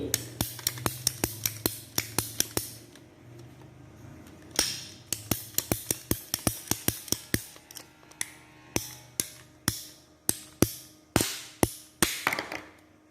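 A pipe cutter clicks and snaps repeatedly against a pipe, dozens of sharp close ticks in an uneven rhythm with short pauses between bursts.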